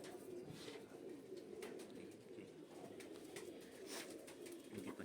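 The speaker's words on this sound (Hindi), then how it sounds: "सब ये सब जितने कबूतर भी हैं देसी कबूतर हैं" Desi pigeons of the Rampuri breed coo steadily in soft, overlapping calls, close by and continuous, with no talking over them.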